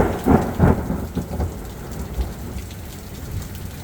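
Heavy rain pouring steadily at Ghar-e-Saur, the cave of Thawr, with deep thunder rumbling in a few close bursts at the start and then fading into the constant downpour.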